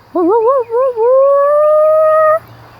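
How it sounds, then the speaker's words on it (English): A long, loud, wavering howl rises and warbles before settling into a sustained tone, then cuts off, with faint background hum. "That's where I heard the howl"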